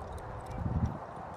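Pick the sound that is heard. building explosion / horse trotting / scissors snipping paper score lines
horse trotting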